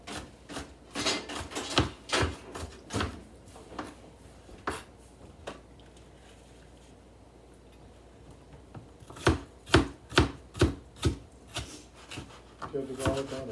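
Peppers for chili are chopped with a knife on a cutting board in a home kitchen: quick, close, rhythmic knocks that pause for several seconds mid-way, then resume in another fast burst.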